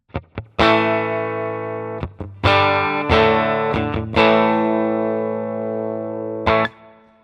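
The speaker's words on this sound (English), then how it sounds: "that's what my clean sound like with my Telecaster." A Fender Telecaster electric guitar with a bridge humbucker, clean tone, plays sustained chords and a few muted plucks, ringing out between short picked notes, played alone at moderate volume.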